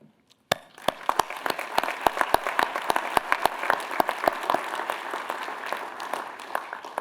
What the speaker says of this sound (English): Dr. Hine made, I hope you join me in applauding his extraordinary dedication to the student dentistry and to Iupui and IU.